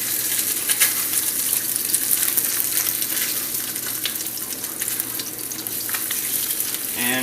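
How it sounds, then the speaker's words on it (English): Crusted tilapia fillets frying in oil in a pan, a steady loud close sizzle with crackling spatter that continues throughout without talk. "we're just going to fry both sides"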